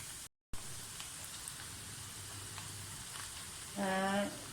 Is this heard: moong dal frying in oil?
yes